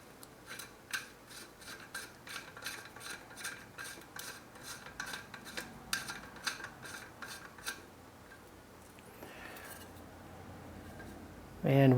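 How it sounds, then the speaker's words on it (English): An AR-15 muzzle brake is spun by hand onto the barrel threads, producing a quick regular series of light metallic clicking scrapes for several seconds, then a pause and a brief louder knock at the end. "we're gonna just hand tighten this on here"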